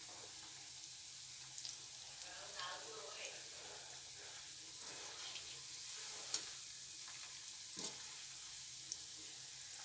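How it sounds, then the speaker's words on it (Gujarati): Poha vada fritters frying in hot oil over a medium gas flame, a continuous soft bubbling sizzle with faint stirring clicks and occasional light taps, steady and fairly quiet. "આપણે થોડા હલાવી લઈશું પકોડાને અને મીડિયમ ગેસ પર એને ચડવા દઈશું।"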